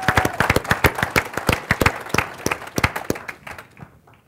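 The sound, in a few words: audience applause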